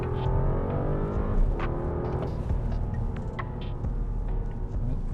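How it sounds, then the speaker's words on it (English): A Rolls Royce Ghost Series II Black Badge engine pulls hard under acceleration, a smooth, steady low roar heard from inside the cabin with a faint gear shift and no talking. "Now you can hear the engine."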